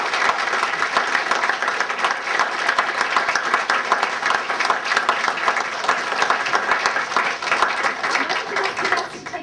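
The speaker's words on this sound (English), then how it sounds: "we should give them a big round of applause" Wedding guests applaud Swati and Mark's kiss with a dense, continuous round of clapping that stays strong and even for nearly ten seconds, then tapers slightly at the end.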